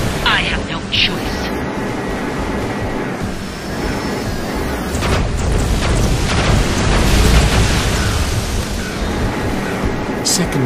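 Missile explosions in an Iron Man video game at the Maggia Compound: loud, rumbling booms and crackling bursts that build to a sustained roar, with voices speaking over the din.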